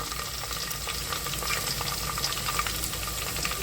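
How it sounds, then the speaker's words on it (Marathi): Chopped onion sizzles and crackles in a pan with coriander, cumin and fennel seeds, a dense, even frying hiss with scattered pops throughout, close and steady with no voices. "आपण बघू शकता कांदा चांगला फ्राय होत चाललेला आहे"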